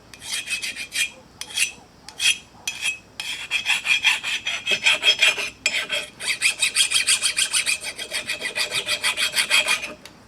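A hand file rasps against the rust-coated steel of a Black Raven axe head in a run of brisk back-and-forth strokes. The strokes are close and scratchy, come in uneven bursts with short pauses, and settle into a steady rhythm near the end.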